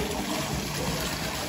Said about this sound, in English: There's a water feature here, so it's very loud